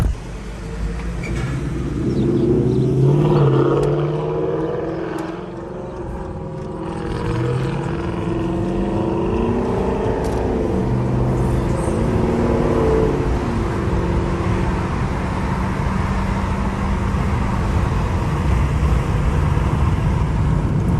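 A car engine drones steadily with rising and falling revs, loud and close, over a broad rumbling road noise and no voices.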